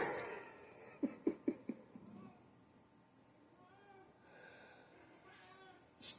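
A house cat meows several times in quick short bursts indoors, fairly close, with quiet background and a faint cough or breath, then another meow at the end.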